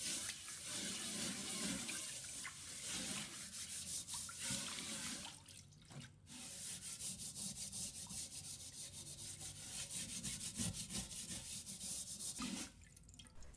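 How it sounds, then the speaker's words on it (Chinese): Clean water swishes and splashes around inside an iron wok as leftover salt grains and rust bits are rinsed out, a continuous soft washing and rubbing noise with faint drips, close and without talk. "就往锅里加些清水，仔细冲洗一遍，把残留的盐粒和铁锈渣都冲干净"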